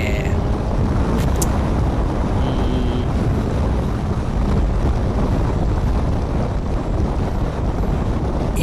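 A motorcycle being ridden, its engine a steady low drone almost buried under continuous heavy wind buffeting against the microphone for the whole stretch.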